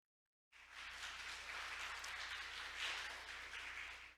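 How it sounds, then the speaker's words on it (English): A conference audience at the 2022 Korea Maritime Week session welcomes a speaker with steady, even applause, a continuous hiss of many hands that starts abruptly after a moment of silence and stays fairly quiet and distant throughout. "Let's welcome him with a big round of applause."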